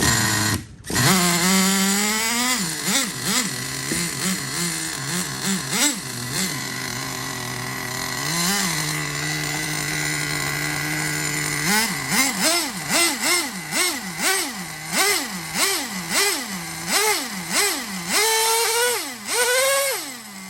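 A Traxxas Jato 3.3 nitro RC truck's small engine buzzes at close range, running cold with repeated sharp revs rising and falling in rapid rhythmic bursts between steadier idle stretches.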